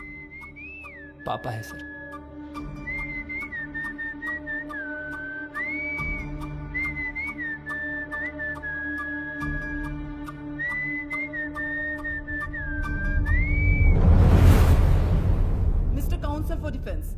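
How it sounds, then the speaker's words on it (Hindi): Someone in a courtroom blows a whistle in a long run of warbling, sliding tones, followed by a loud whooshing burst near the end, with a short spoken line near the start. "वो सीटी कौन बजा रहा है?"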